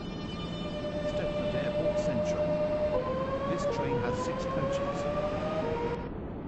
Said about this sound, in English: train is now approaching the connect service to Benton Airport Central